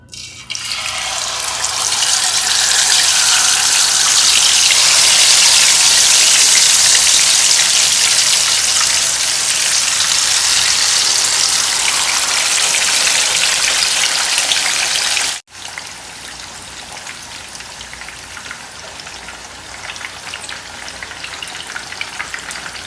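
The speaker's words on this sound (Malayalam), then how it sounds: "ഇനി നമുക്ക് മസാല പുരട്ടി വെച്ച് നമ്മുടെ മീൻ എടുത്തിട്ട് ഫ്രൈ ചെയ്യാൻ വേണ്ടി ഇടാം പതിയെ." Masala-coated fish frying in coconut oil in a pan gives a loud, dense, steady sizzle that crackles for about fifteen seconds, then abruptly drops to a quieter, continuing sizzle.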